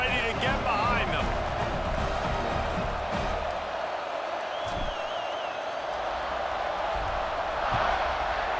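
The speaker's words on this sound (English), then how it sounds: "They're set to kick it off, and this crowd now ready to get behind them." A stadium crowd roars steadily at kickoff in an LSU vs Georgia college football video game, a broad wash of cheering under close play-by-play commentary.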